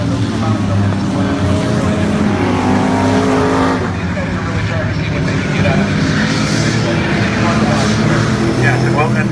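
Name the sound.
antique race cars racing on a track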